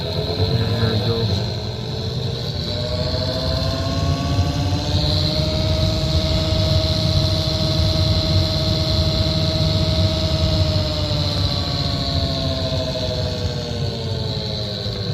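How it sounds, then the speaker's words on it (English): Noisy HVAC blower motor in a Pontiac Torrent whirring steadily with a high whine and a low hum, loud and close, constant throughout with no break. "so that's the blower that's making a noise"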